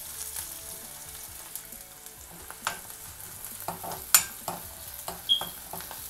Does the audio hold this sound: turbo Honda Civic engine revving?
no